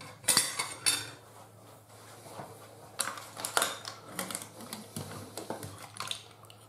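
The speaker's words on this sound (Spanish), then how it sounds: "Y ahora vamos a sacar un platito" Cutlery clinks and scrapes against a dish while potato stew with saffron milk caps, cuttlefish and clams is served onto a plate, with scattered close metallic taps and clatters.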